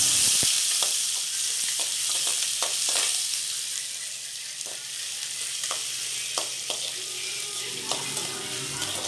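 Onions and curry leaves sauté in a pan with a steady close sizzle, broken by repeated scraping stirs, and no talking.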